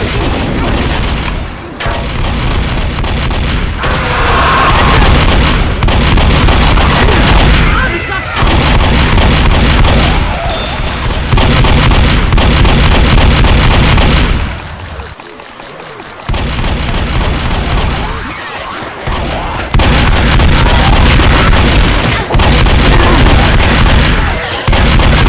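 Loud grenade blasts and heavy gunfire from the co-op zombie shooter Left 4 Dead, custom campaign The Sacrifice, with dense continuous booms and shots filling the mix, a brief lull midway, then more sustained blasting.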